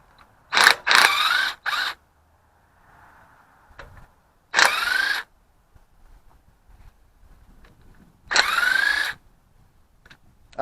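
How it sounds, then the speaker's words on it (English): A ratchet loosens the bolts of a Ford 460 V8 intake manifold, with short bursts of rapid clicking separated by quiet pauses, close and fairly crisp, about three main runs of ratcheting. "let's unbolt the intake manifold"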